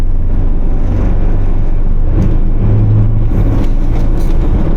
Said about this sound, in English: Driving the W123 again.